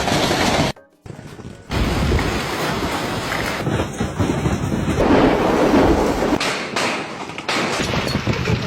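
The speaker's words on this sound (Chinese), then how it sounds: "这么大的冰雹，你的头能接几个？" Large hailstones pelt down hard in a dense, loud clatter over open ground, with a brief drop-out early on before the pounding resumes and continues steadily.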